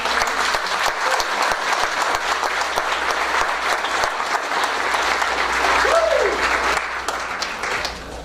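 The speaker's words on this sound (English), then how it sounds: "Let's give these students a round of applause." Steady, dense applause from the audience at a school district board meeting, honoring a group of students, continuing at even loudness for about seven seconds before thinning slightly at the end.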